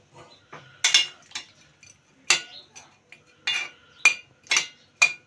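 Metal clinks and clatters against a cooking pot as a lid goes on during a chicken feet curry recipe. A handful of sharp, close knocks come at irregular intervals, with no talking.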